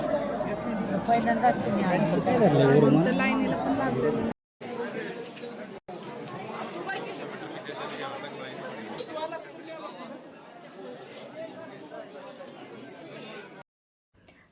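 Dense crowd chatter and babble at Bhimashankar Jyotirlinga temple during the busy Shravan month, a steady loud hubbub of many voices with brief drop-outs, continuing at a slightly lower level before cutting off near the end.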